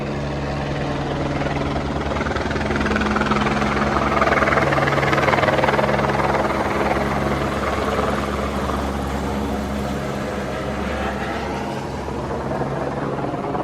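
A helicopter flies overhead in bad weather near Lukla on the Everest trek, its loud, steady rotor and engine roar holding constant throughout with no voices.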